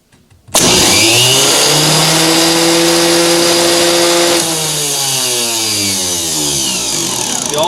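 Starter or alternator spinning on an OTC Mini-Tune bench tester: a loud motor whine kicks in abruptly, climbs in pitch as it winds up, then holds a steady drone and shifts slightly lower, with no talking.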